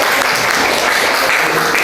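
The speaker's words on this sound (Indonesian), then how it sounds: "tepuk tangan untuk semuanya." A burst of clapping from a classroom group of students, dense and steady throughout with no talking over it.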